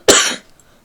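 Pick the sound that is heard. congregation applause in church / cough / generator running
cough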